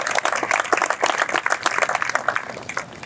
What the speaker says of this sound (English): So a round of applause for all of our sponsors.